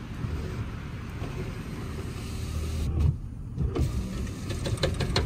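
An old car's power window motor whirs steadily as the glass travels, with a brief change in pitch midway and a few small clicks toward the end, close and fairly loud.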